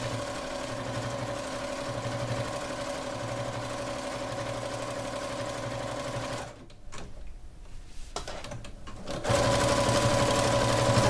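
A sewing machine stitches binding onto a minky baby blanket with a steady, close motor hum. It stops for a couple of seconds and then starts again at full speed.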